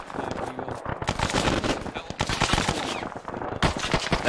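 Rapid machine-gun bursts and gunshots rattle through a World War II tank battle in a video game, near and loud, with dense volleys continuing throughout and a few brief pauses; a voice talks beneath the shooting.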